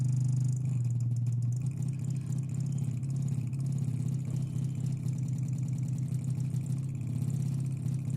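A DIY engine built from a subwoofer in a PC case imitates a V8, producing a continuous loud, low rumbling drone with a fast, even pulsing throb that holds steady throughout, with no talk.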